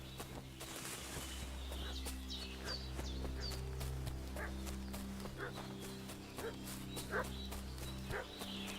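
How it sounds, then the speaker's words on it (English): A dog barks in a video game village scene, a series of faint yips and barks over a steady low ambient hum and soft clip-clopping hooves. "Is that mutt barking?"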